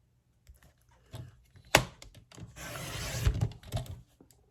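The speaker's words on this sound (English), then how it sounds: "I'm going to take some of the navy blue and cut 1/2 inch strips as well." Navy blue paper being cut into half-inch strips for scrapbooking, with quiet scissor snips and a sliding, rubbing paper rustle, close and soft, with a few clicks and no talking.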